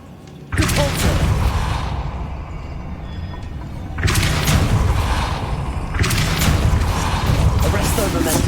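Hogwarts Legacy Depulso spell casts land as three heavy booming blasts with bright crackling tails, each burst loud and close, spaced a few seconds apart over continuous game ambience.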